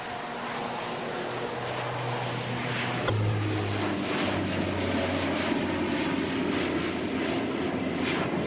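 A Lockheed Martin and Alenia twin-turboprop military transport aircraft flies past at the 2003 Royal International Air Tattoo, its loud propeller roar building and swelling sharply partway through, with no talk over it.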